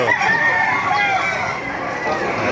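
Young roosters at a market in Baliuag: one crows loudly nearby, its drawn-out call rising and wavering over outdoor background noise.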